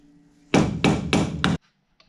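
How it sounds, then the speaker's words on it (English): Four sharp, loud hammer taps on metal, tapping a cap onto a Mustang steering angle kit part, evenly spaced and close, followed by near silence. "you should be able to just tap it right on with the hammer"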